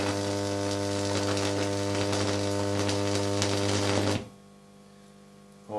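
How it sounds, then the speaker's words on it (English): A high-voltage flyback transformer setup gives off a loud, steady 50 hertz mains hum with a buzzing, crackling edge, running continuously for about four seconds before dropping abruptly to a faint background hum. "Oh, 50 Hertz hum."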